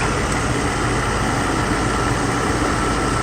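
A Mercedes SL600 V12 engine idles steadily and evenly, a continuous close, dense rumble with no revving and no voices.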